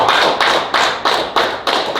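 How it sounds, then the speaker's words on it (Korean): Lecture attendees clap together in a steady, synchronized rhythm, sharp unison claps landing about three times per second, loud and close, with no talking over them. "믿으시는 분들은 박수 한번 보내주시죠"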